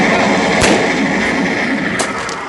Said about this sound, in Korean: 그저 총소리와 긴장감만이 가득 흐릅니다.